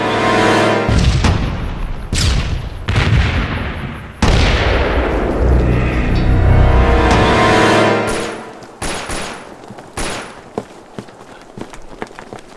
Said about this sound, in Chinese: 好像是手榴弹爆炸，枪声也是那边传来的